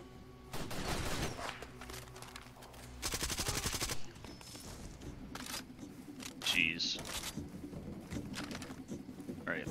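Bursts of automatic gunfire in Far Cry 2 crackle in rapid volleys, separated by brief pauses, with bird calls, scattered impacts and ambient game noise between them.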